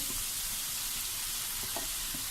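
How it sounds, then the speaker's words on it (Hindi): Shredded cabbage goes into a pan of carrots stir-frying for chicken chow mein, giving a loud, steady broadband sizzle with a few faint knocks underneath, close up and without any talking. "गाजर भी हल्की सी फ्राई हो चुकी हैं। अब इसमें बंद गोभी जाएगी"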